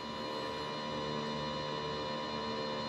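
A coolant refill pump on a 2023+ Nissan RZ34, running during the cooling system refill, gives a steady electrical hum with a constant tonal drone throughout, unchanging and moderately quiet with no talk.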